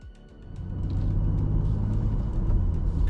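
BMW M2 G87 coupe pulling away on the road, a low engine rumble swelling over the first second into a steady, moderately loud drone with road noise underneath.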